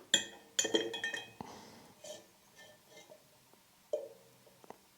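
A metal spoon clinking against a glass of tap water as an egg is lowered in, several sharp bright clinks and taps spaced irregularly, close and quiet, with no talking.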